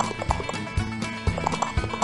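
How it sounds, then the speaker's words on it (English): Horse hooves clip-clop in a steady galloping rhythm, several evenly spaced heavy beats close by, over a busy musical background. "Ride hard, little horsey."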